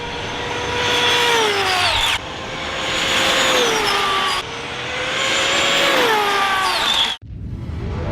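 An ARRMA Limitless RC speed car at open throttle, its electric motor whining loudly in repeated rising and falling passes, each run swelling then dropping off before a sudden cut near the end; no talking.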